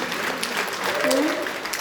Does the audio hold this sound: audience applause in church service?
yes